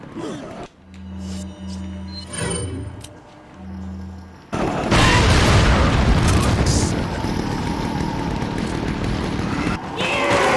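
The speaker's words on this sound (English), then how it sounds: "So we'll throw a grenade down." A grenade detonates in Resident Evil 4, a heavy broadband blast that bursts in loudly and then keeps rumbling for several seconds. Before it, low steady tones and game sounds play, and talk can be heard alongside.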